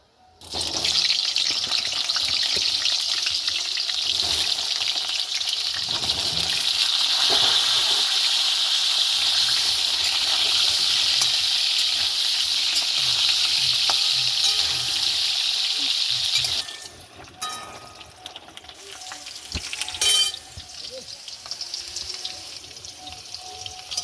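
Boiled potatoes fry in hot oil with bay leaf for Kashmiri dum aloo, giving a steady, loud sizzle that runs unbroken for about seventeen seconds, then drops to a quieter crackle with a few clinks.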